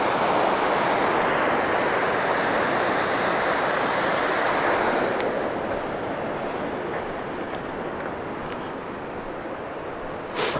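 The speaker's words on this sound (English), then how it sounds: "Nice little waterfall here." A small waterfall on the Pickerel River in northern Ontario, a steady broad rush of falling water that stays loud and continuous throughout, easing slightly toward the end.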